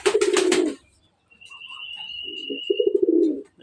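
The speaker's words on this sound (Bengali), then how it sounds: "তো দেখেন কেমন ডাকাডাকি করতেছে" Pigeons in a cage give loud, close, throaty coos, one burst at the start and another after a short pause, with a faint thin whistle between them.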